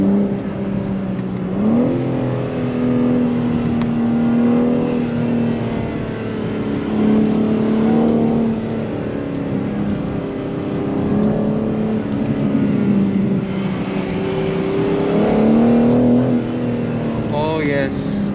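BMW M car exhaust revving in its most aggressive mode while driving up Mt Faber, a steady loud engine drone with rising and falling revs and repeated surges, heard from inside or near the car.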